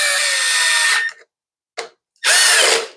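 Power drill driving screws on an old Honda-powered Snapper mower, three whirring bursts: a long one-second run, a short blip, then another strong run tapering off, with silence between and no talk.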